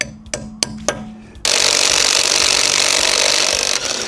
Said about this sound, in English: I can hammer this on just to get this one off, because I need this wheel off